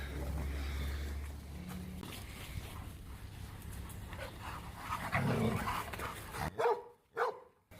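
A dog barks a few times with some panting, fairly close, over a background rumble that drops away near the end.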